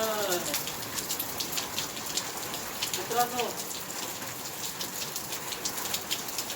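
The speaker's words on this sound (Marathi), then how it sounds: "या पावसात भिजाल्या जरा गार वाटते" Steady first monsoon rain patters densely on surfaces nearby, a continuous even hiss with scattered heavier drops, while a voice speaks briefly partway through.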